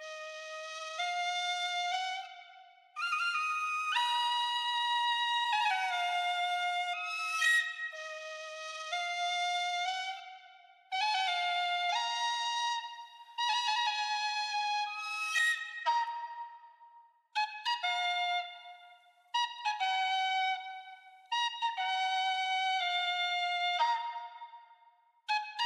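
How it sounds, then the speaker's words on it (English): A synthesized or sampled flute plays a melodic phrase built for a beat, with sustained tones and quick ornamented runs, continuous and fairly close, with no voices. "And now I can show you the flute phrase."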